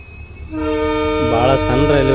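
An express train running from Shivamogga Town to Mysuru sounds its horn while departing a small railway station; a steady harmonic blare starts after a short quiet lead-in, then swells and wavers through two louder pulses, loud and near.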